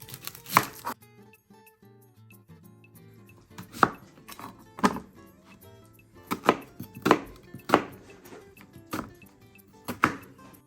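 A knife dices a medium onion on a cutting board, sharp close chops landing in uneven clusters with short pauses between them, over a quiet kitchen background.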